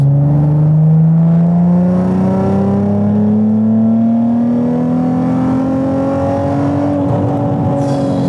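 A Nissan 350Z engine revs up under acceleration in third gear, its loud, close drone climbing steadily in pitch without reaching the rev limiter, then easing off near the end.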